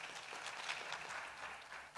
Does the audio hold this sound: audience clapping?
yes